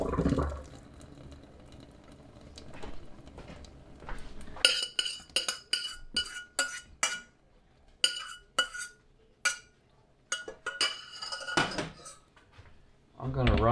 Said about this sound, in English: I'm going to pour it into the strainer.